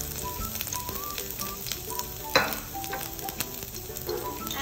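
Dry red chilies, fresh ginger and garlic fry in oil in a wok for kung pao chicken, a steady sizzle with scattered crackles and a few stirring scrapes, with faint music underneath.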